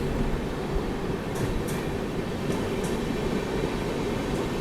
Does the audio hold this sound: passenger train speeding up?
yes